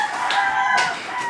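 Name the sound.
roosters crowing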